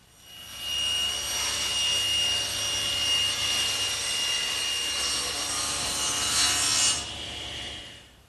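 A power saw rips sheets of plywood into long strips, a loud, sustained whining cut that rises after a moment, holds steady for several seconds, then spins down, heard up close with no talking.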